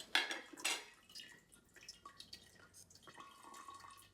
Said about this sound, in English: I'm going to remove my tea bags.